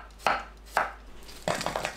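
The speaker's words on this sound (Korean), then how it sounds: "둥글고 얇게 썰어주세요" A knife slices a cucumber into thin rounds on a cutting board. Two separate crisp cuts are followed by a quick run of several close, sharp chops.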